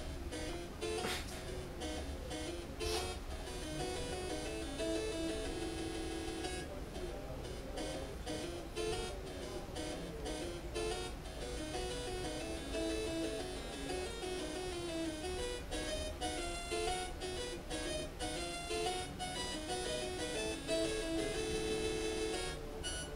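Chiptune-style video game music ported to a 6502-based computer plays continuously for over twenty seconds. Bright, buzzy synthesized tones move through a quick melody with steady rhythmic notes, heard faintly at a low level.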